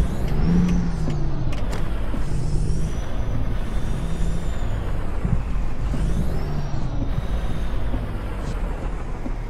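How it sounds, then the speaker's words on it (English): Loud, steady hiss of air brakes on a truck in American Truck Simulator, running under a constant engine drone for the whole stretch, with no talk. "let's go ahead and parking brake, turn the engine off"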